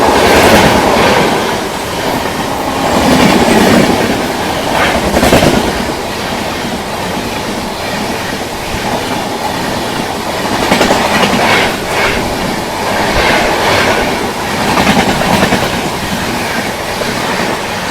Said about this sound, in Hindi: यहाँ पे गोरखपुर बांद्रा अंत्योदय एक्सप्रेस ओवरटेक करने वाली है अपने अहमदाबाद गोरखपुर एक्सप्रेस को